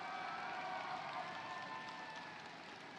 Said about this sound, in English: We love the rapturous applause.